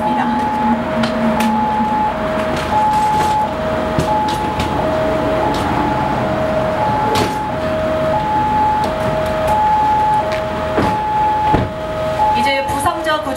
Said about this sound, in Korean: 부상자를 인근 병원으로 후송하기 위해 구급차로 후송을 하고 있습니다